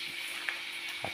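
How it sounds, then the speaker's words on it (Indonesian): Fish frying in a pan after a fishing trip, a steady close sizzle and hiss with a couple of faint pops, no talk. "Goreng dulu ini mumpung perut sudah lapar ini. Jadi ya goreng ikannya."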